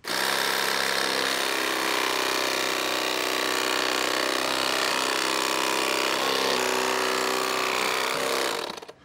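A novelty turkey chainsaw gadget slices through a turkey breast with a loud, steady motorized buzz that runs without a break for about nine seconds, then cuts off abruptly at the end.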